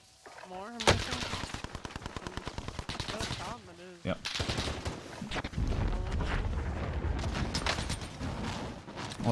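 Automatic gunfire rattles in rapid bursts in the Call of Duty Cold War video game, loud and close, with long strings of shots broken by brief pauses and a voice reacting over the action.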